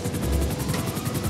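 A police helicopter in GTA 5, heard as a loud, close, continuous rotor drone with rapid rhythmic chopping pulses and no voices.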